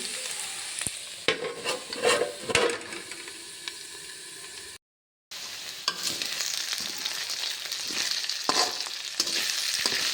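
Sliced okra frying in hot oil with garlic paste, a steady close sizzle with a few stirring scrapes. A short gap of silence interrupts it partway through.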